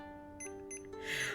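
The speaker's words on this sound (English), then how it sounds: "I know it's beeping, very annoying right now." A Tamagotchi toy gives off steady electronic beeping tones, thin and sustained with short pulses, close and moderately loud, rising into a brighter burst at the end.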